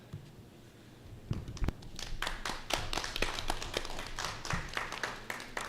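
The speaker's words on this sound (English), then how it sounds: "I just wanted to give a round of applause to the kids for really dedicating themselves to this" A school board meeting audience breaks into a round of applause, starting with a few scattered claps and building into steady, moderately close clapping from a small group that carries on to the end.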